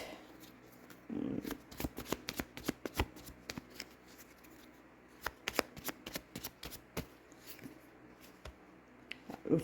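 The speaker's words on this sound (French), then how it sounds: "Alors, je tire une dernière carte." Tarot cards are shuffled and drawn in a tarot reading, giving a run of quick, crisp riffles and slaps close by with brief pauses, and no talking.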